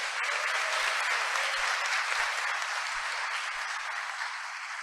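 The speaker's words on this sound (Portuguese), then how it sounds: "Dê uma salva de palmas para ele" A crowd applauds steadily during a church Mass, dense clapping that holds throughout and fades slightly at the end.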